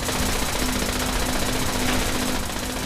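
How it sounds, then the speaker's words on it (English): Sustained rapid gunfire from a firefight in the post-apocalyptic video game Fallout 76, a dense continuous burst of shots at steady loudness throughout with no talking. "We're shooting each other."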